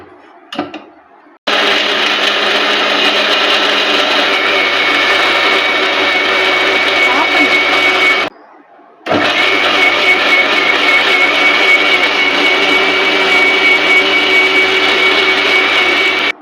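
Mixer grinder blending a thick milkshake at home, running in two loud, steady whirring bursts of several seconds each, with a short pause between them and a brief knock before the first.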